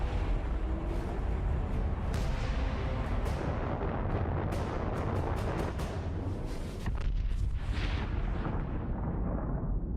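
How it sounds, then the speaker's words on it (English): A nuclear bomb detonates in the video game Fallout 76, a massive, sustained roaring blast with rumbling bass and crackling bursts rolling on continuously for the full length, loud and dense with no talk over it. "Will your bomb land on a rival camp of degenerates?"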